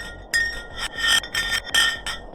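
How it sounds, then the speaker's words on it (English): Ice dropped down a drilled borehole in the Antarctic ice sheet sends back a rhythmic series of about five rasping, scraping bursts laced with high, ringing metallic pings, each one fading before the next arrives. "they decided to drop some ice to the bottom of the hole to see what would happen next"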